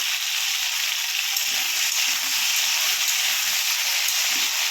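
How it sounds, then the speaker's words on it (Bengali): Vegetables fry in a pan with a loud, dense and steady sizzling hiss that runs unbroken from start to finish, with faint low knocks underneath. "এগুলো লাল লাল করে ভেজে নেবো।"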